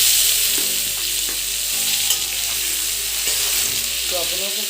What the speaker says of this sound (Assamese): পিঁয়াজটো আপোনালোকে 1 মিনিটমান ভাজি ল'ব